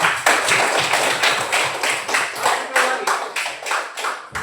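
A class clapping hands together in a classroom lesson, a fast series of roughly a dozen distinct claps in a quick, slightly uneven rhythm, close and fairly loud, with some voices mixed in.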